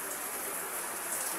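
Heavy rain pours down steadily in Cavite City, a dense, constant hiss of drops on surfaces with no other sounds.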